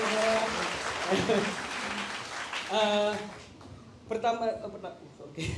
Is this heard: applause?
yes